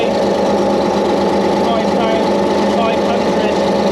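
A tank or armoured car engine, such as an AMX13, ERC90 or AML90, roars loud and continuous at start-up, a dense steady rumble with smoke showing, filling the whole stretch without a break.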